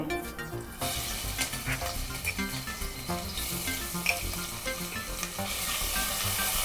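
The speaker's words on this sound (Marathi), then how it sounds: "कढीपत्ता टाकते, अद्रक लसूण पेस्ट टाकते" Curry leaves and ginger-garlic paste fry in hot oil with cumin seeds while egg curry is cooked, giving a loud, continuous sizzle and crackle. A spoon stirs in the pan throughout, and no one speaks.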